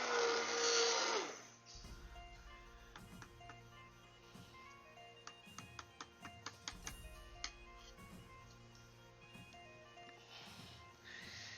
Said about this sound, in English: I am going to give my eggnog another little whisk